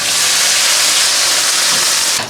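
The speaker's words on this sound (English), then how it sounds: "I'll put some broth in it" Broth poured into a hot pan of darkened fried onions for lamb biryani gives a loud, steady sizzling hiss that fills the whole stretch and eases slightly near the end.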